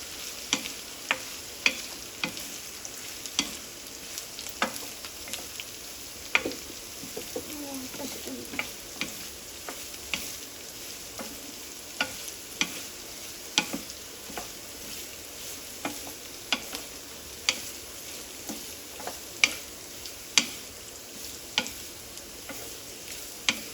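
Food fries quietly in a pan with a soft continuous sizzle, punctuated by regular light clicks and scrapes of a spoon stirring it, fairly close and with no talking.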